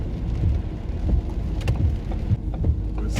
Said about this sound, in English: When it's raining, I feel like I'm on a different planet.